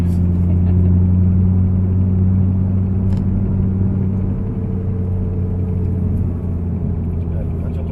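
Audi R8 engine holding steady throttle on the Issoire race circuit, a loud, continuous low drone with a stable pitch throughout, close to the microphone, with no talking in the clip.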